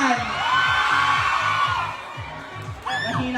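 Crowd of fans at an SM Caloocan mall event cheering and shouting in a sustained roar over a pulsing beat, with a fresh burst of whoops near the end.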